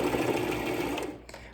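A sewing machine stitches steadily through many thick layers of lanyard fabric, running close and continuous with a slightly clunky, labored hum before easing off near the end.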